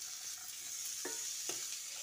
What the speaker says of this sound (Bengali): এঁচোড় ও আলুটা কষাতে কষাতে এর মধ্যে যে ভাজা মশলাটা তৈরি করে রেখেছিলাম তার থেকে অর্ধেকটা দিয়ে দিচ্ছি